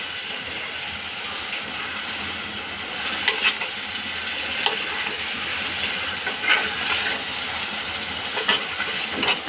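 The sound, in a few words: marinated chicken frying and being stirred in masala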